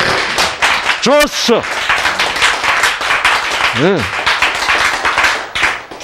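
Hands clapping several times in a lively indoor gathering, with sharp claps mixed among children's and adults' voices and a short spoken exclamation.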